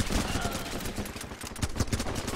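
Dense gunfire in the multiplayer war game Running with Rifles, a near-continuous rattle of rifle and machine-gun shots with heavy low thumps, under faint voices.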